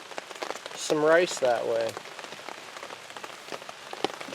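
Steady rain patters on surfaces outdoors during a storm, a fine continuous hiss with scattered drop ticks, while someone speaks briefly over it near the start.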